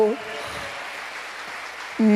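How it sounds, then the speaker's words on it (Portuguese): Church congregation clapping at a Baptist service, a steady broadband wash of applause filling the gap between sung or spoken phrases from a voice at the start and end. "Aplauda o nome do Senhor."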